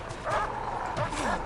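Guard dogs in a prison management video game barking and yipping as they chase down a fleeing prisoner, several sharp close barks in quick succession.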